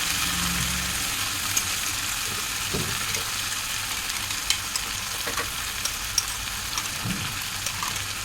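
Mustard, tomato and green chilli paste frying in a pan, a steady soft sizzle and crackle running throughout, with a few light clatters and scrapes of stirring close by.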